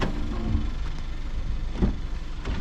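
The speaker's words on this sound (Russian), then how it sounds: "О, прикол, приехала водовозка." Engine of a water delivery truck rumbling steadily as it pulls up outdoors, a continuous low drone with a couple of louder swells, no talking.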